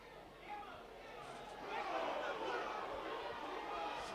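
A football crowd at Soufriere Mini Stadium during an under-20 tournament match makes a steady, distant murmur that swells louder about halfway through and stays raised, with voices blended into the broad noise.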